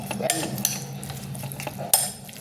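Oats mixed with apple, pomegranate and banana being stirred in a bowl, with close scraping and clinking of a spoon against the dish in a few quick strokes, no talking.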